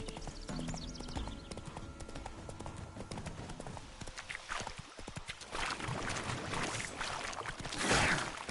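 Roach the horse's hooves clip-clop in The Witcher 3, a steady trotting beat under game ambience and music, fairly quiet, with a louder swell near the end.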